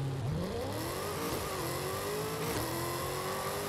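A Ford Falcon GT F with a Coyote V8 in Forza Horizon 5, held on the brake and revved, its engine note climbing smoothly and holding a loud sustained drone for several seconds.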